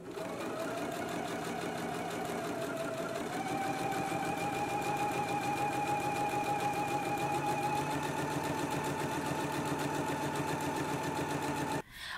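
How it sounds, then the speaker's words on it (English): A sewing machine runs steadily for about twelve seconds, stay stitching the sides and hem of a slip dress, a fast even mechanical whir that shifts pitch slightly partway through and cuts off at the end. "let's head to the machine now and go ahead and do stay stitching along the sides and the lower edge of our"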